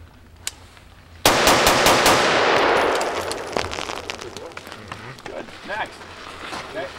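A single rifle shot from a non-piston gun with a 16-inch barrel, Surefire flash hider and 55 grain Winchester ammunition: one sudden, loud crack followed by a long echoing decay, with faint voices afterward.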